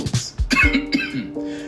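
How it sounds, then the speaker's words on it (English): A short series of AI-generated coughs, several close, sharp bursts in a quick uneven rhythm with a voiced, throaty tail, heard alone. "supposedly AI can cough now"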